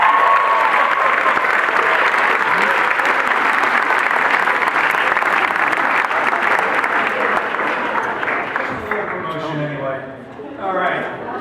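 Audience applause for speakers at a live talk event, a steady dense clapping that fills the room and then thins out toward the end as a voice starts to talk.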